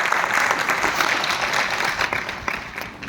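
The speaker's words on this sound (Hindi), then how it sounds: "जोरदार तालियां होनी चाहिए हमारे नए डिस्ट्रीब्यूटर्स के लिए" A large audience gives sustained, dense applause for new distributors at a Milifestyle business event, with continuous clapping throughout.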